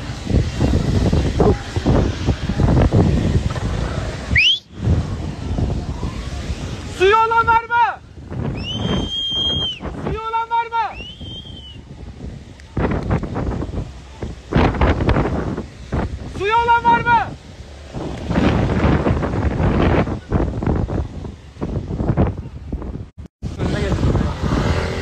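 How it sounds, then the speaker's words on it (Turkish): Strong wind near a wildfire buffets the microphone outdoors in loud, gusting roars that come and go, with brief siren-like wails and shouting voices in between. "Çok şiddetli rüzgar var."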